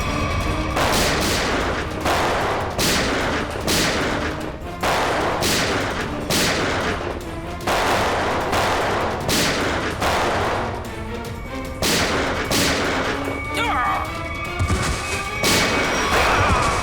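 A shootout in a CID television crime drama, with rapid, loud bursts of gunfire repeating in a steady, close barrage over about seventeen seconds, the shots crowding one after another.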